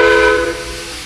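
A short, loud blast of a steam train whistle, a bright chord-like tone with a hissy edge that trails off after a second.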